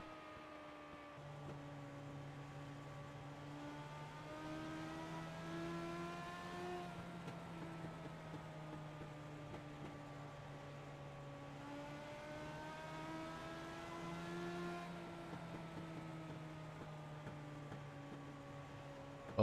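A legends race car engine heard from the cockpit at Oxford, a steady mid-pitched buzzing drone that rises and falls in pitch through the laps.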